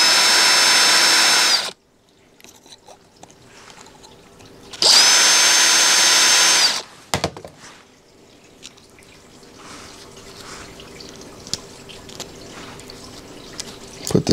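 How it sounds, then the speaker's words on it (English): A power drill with a 3 mm bit opens holes in a printed part for a Prusa XL idler, two loud whining bursts of about two seconds each, followed by quieter handling clicks and taps. "Gotta open those holes again, 3 millimeter drill bit."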